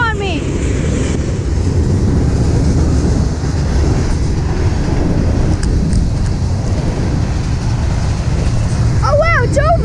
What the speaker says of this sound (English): Here comes a Norfolk Southern train.